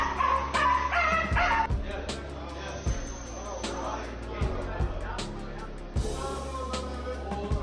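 A rescued dog yips, barks and whimpers in short sharp bursts, close and loud, with people talking in the background.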